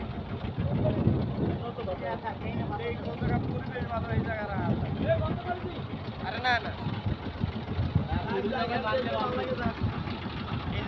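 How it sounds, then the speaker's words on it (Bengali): Steady wind gusts buffet the microphone with a constant low roar, while people talk over the blustery outdoor noise. "সব জায়গায় বাতাস আছে"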